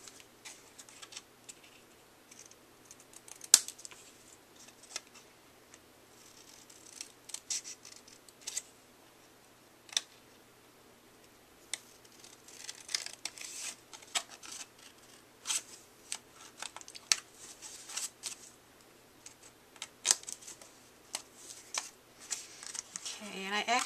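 Scissors snip around a paper pumpkin cutout glued onto a fall card base, giving short, close, irregular cuts and paper rustles spread through the passage.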